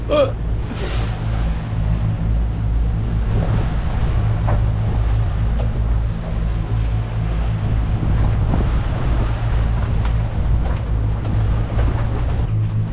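A boat crosses the Mooloolaba bar in a big, lumpy swell, its engine a deep steady rumble under buffeting wind noise and the wash of waves, continuous and loud.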